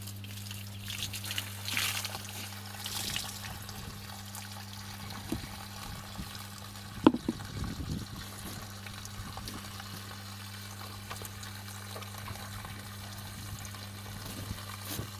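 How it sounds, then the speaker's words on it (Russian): Water running out of a hose from a freshly renovated well, a soft continuous trickle and pour under a steady low pump hum, with one brief knock partway through. "Вот течет вода, она шланг очистила."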